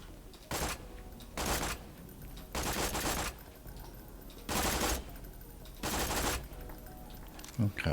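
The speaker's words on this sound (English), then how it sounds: "it's a very, very accurate burst" A burst-fire gun in Borderlands 2 shoots six evenly spaced short bursts, each a quick cluster of loud sharp cracks, separated by quiet pauses.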